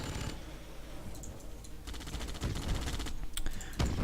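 Sentry gun and GI infantry fire in Yuri's Revenge, a Command & Conquer strategy match, with rapid clattering machine-gun bursts and scattered shots that build and grow louder toward the end, fairly quiet overall.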